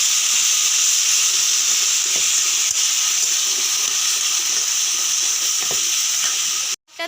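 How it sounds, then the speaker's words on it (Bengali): Boiled greens stirred into hot oil with crushed fried garlic for a ghonto, giving a steady, close hiss and sizzle throughout with faint scraping, ending in a brief gap near the end. "সিদ্ধ করে রাখা শাকটা দিয়ে দেবে, দিয়ে ভালোভাবে নেড়ে চেড়ে তেলে দিয়ে নেবে।"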